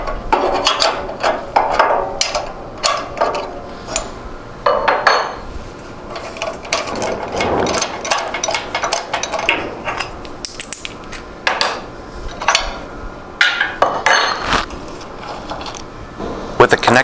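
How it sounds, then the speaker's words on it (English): Wrenches clank and rattle against metal while the connector bolt is loosened and removed from a bandsaw during riser block installation, a run of near, sharp metallic clinks and taps with brief pauses. "Using a couple wrenches, remove the connector bolt."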